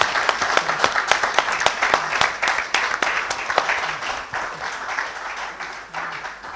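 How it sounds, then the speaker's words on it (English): A conference audience applauds the panellists at a live afternoon session, a steady roomful of clapping that is loud at first and then gradually tapers off, with no talk over it. "Can you have a round of applause?"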